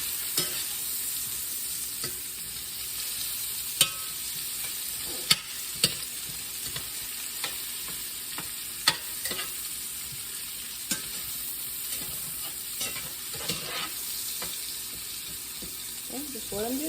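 Onions soften in a hot pan while pork medallions and gravy are being prepared. A steady, close sizzle runs throughout, with sharp clicks and scrapes from stirring scattered across it and a faint voice in the background.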